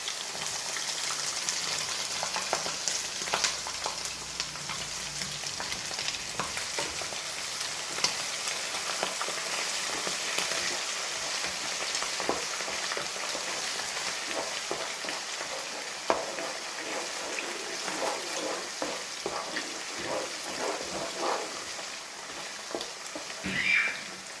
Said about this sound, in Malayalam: അപ്പോൾ ഞാൻ ഈ ഇഞ്ചി വെളുത്തുള്ളിയെല്ലാം ചതച്ചിട്ട ഇടാറ്